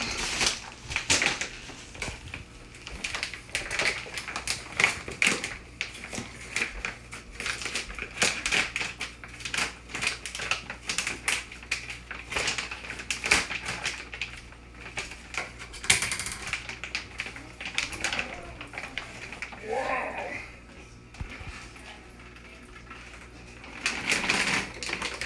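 Plastic packaging is pulled and peeled off a Wagyu brisket, producing a steady, close crackling and crinkling that runs without a break for about 25 seconds.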